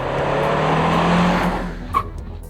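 Acura TSX driven hard through a pylon course, engine roaring loud and steady close by with a brief tire chirp near the end.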